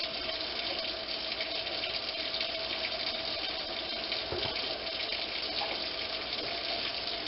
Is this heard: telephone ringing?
no